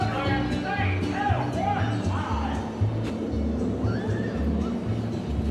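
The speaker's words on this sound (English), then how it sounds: "Oh, look at this friendly horse here." A horse at the horseback riding area of the Cedar Point amusement park in Sandusky, Ohio gives several short whinnies and nickers over a steady low rumble of outdoor background noise.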